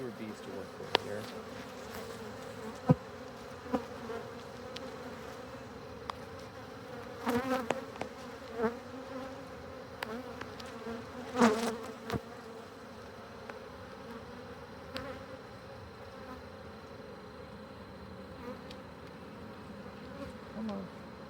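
A steady, close insect drone of a honey bee swarm buzzing together, continuous throughout with a few brief louder bumps.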